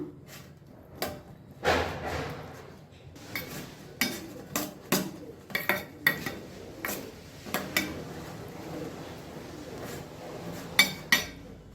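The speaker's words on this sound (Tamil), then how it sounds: "இப்போ இதை வந்து நல்லா மிக்ஸ் பண்ணிக்கலாம்" Sweet corn is mixed with pepper powder in a bowl, giving a series of close, irregular clinks and scrapes of a spoon against the bowl, some sharper taps standing out over a quiet background.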